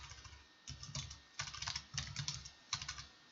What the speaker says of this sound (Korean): 졸리니까 타자도 못 치겠네.